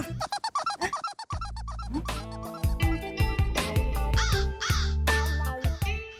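A crow caws repeatedly in harsh, rhythmic calls, close and loud, first in a quick string of short caws, then in longer, drawn-out cries against a quiet background.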